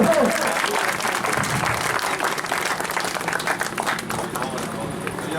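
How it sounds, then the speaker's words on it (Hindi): A crowd at a Sahara India meeting in Bisfi claps loudly and continuously, busy overlapping applause with voices and room noise mixed in. "तालियों के साथ सभी लोग जोरदार ताली दो।"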